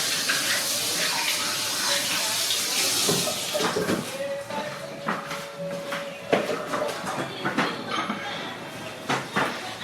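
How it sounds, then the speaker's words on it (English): Tap water runs steadily while hands are washed after cake decorating with buttercream, a continuous splash that fades out midway and leaves scattered clinks and knocks from a kitchen. "Just let me wash my hands"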